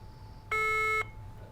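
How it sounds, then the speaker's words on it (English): A quiz competition buzzer gives one loud electronic tone lasting about half a second, rising sharply above quiet room noise and then cutting off abruptly. "You heard the buzzer."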